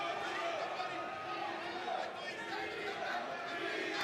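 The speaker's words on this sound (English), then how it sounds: "Crowd inside Thunder Studios yelling, Tito, Tito" Fight-night crowd inside Thunder Studios yelling the fighter's name Tito, a steady dense roar of many voices throughout, fairly distant and continuous.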